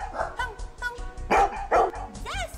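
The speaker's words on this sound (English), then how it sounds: "There are three dogs." Dog barking in a series of short, excited yips and bow-wows at moderate loudness, with some whimpering tones between barks.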